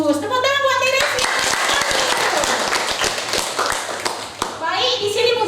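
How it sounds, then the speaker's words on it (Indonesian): A classroom of students claps for a classmate named Teresia, a burst of sharp hand claps under children's voices, with a teacher talking at the start and end. "Tepuk tangan buat Teresia."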